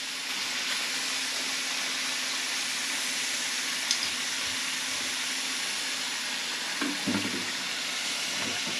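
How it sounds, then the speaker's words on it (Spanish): Hot oil sizzles steadily while oxtail pieces brown in a pot, a continuous bright frying hiss with a few soft pops and bubbling bursts near the end, with no talking. "Polina, la aceite sigue hirviendo."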